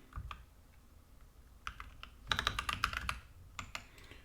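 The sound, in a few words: typing on a computer keyboard in Excel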